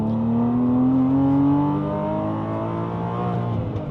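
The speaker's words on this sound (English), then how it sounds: "This exhaust is a little on the loud side" A 987.1 Porsche Cayman S engine revs up with a rising drone, then settles into a steady, loud exhaust rumble as it holds speed nearby.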